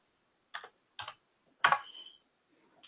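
A few separate keystrokes on a computer keyboard, three short clicks spaced about half a second apart, close and clear against near silence.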